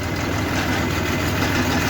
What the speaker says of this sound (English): Just waiting for the chopper to slow down.